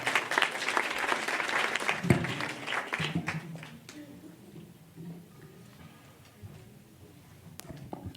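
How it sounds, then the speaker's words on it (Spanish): Conference audience applauding a speaker, dense clapping loud through the first few seconds, then thinning to scattered claps and room noise. "Así que démosle un fuerte aplauso al doctor Rubén."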